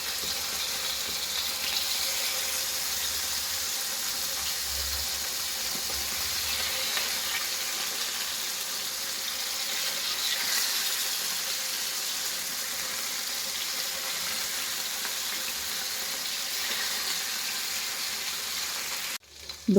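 Mackerel pieces fry in hot oil in a pan for a fried mackerel dish, giving a steady, dense sizzle that fills the whole stretch at an even loudness, close up and with no talking.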